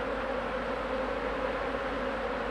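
Honeybees hum steadily around a beehive in sunshine, some gathering water on the metal hive roofs; a continuous, even drone of many wings fills the clip at moderate level, with no voices.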